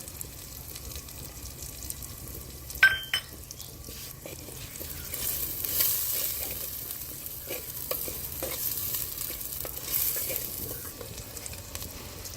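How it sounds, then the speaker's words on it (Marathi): Coarsely crushed garlic sizzles in hot oil with a soft, steady hiss, broken by a sharp clatter of stirring near the start and light scrapes later. "हे अशी फोडणी द्यायची थोडं शिजू द्यायचं"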